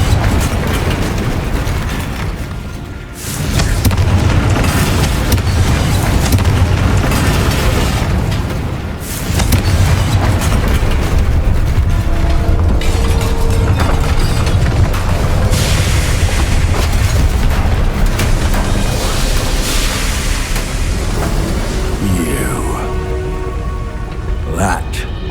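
Repeated Confringo spell blasts from Hogwarts Legacy boom through dense, continuous game noise, with a spoken voice over part of the action.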